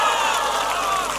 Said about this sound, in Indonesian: tepuk tangan buat semuanya di sini.